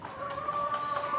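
Chickens, including black hens and native birds, clucking and murmuring steadily inside a backyard coop in Mayyanad, Kollam, with a constant close layer of soft calls.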